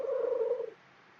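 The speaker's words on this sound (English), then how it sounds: "That's my cat." A pet cat gives a short tonal purring vocalization, a close, sustained trill lasting under a second before fading into quiet room tone.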